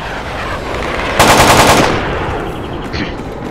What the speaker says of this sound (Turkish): Birilerini vuruyorlar